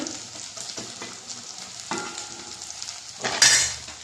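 An omelette sizzles in a pan, a steady crackling fry with a few soft scrapes and a louder hiss burst near the end, close up and without talking.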